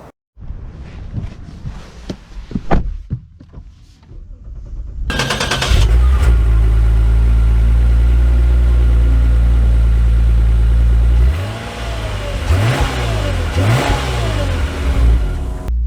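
A 2024 Lexus IS 300 AWD starts up and pulls away, its engine settling into a loud, steady drone that then rises and falls through several revving surges as the car accelerates on the road.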